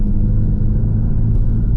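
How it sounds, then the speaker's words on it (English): A McLaren 570 engine running rough with a misfire on cylinder 5, a loud, close, low rumbling idle that holds steady throughout, with no talk. "the software had noticed that the car was starting to run rough on cylinder 5"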